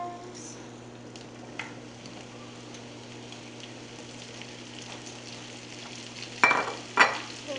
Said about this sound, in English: add in my mushrooms